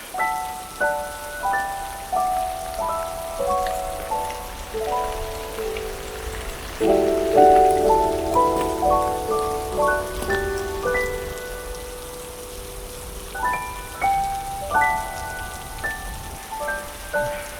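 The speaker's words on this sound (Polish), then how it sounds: "Słuchajcie, deszcz mi przerwał nagrywanie." Rain falls steadily through a forest, a soft continuous patter of drops on leaves and ground, heard alone while a clear melodic tune plays on over it throughout.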